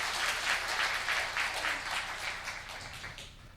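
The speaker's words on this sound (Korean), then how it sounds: "여러분이 칠 수 있는 최고의 박수로 하나님께 드리겠습니다" Congregation applauding during a Sunday worship service at a church in Seoul: dense, steady clapping from a large crowd filling the space, gradually tapering off toward the end.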